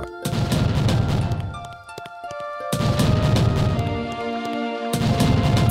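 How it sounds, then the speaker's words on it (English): Fireworks bursting in the Dragon Quest Builders video game: repeated loud booming blasts in three heavy waves, with crackling tails and game music tones running underneath. "Fireworks."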